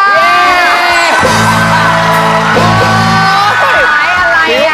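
Studio audience fans at a Thai TV game show screaming and cheering loudly, a dense crowd of high shrieks and whoops rising in waves, with a voice shouting over the din.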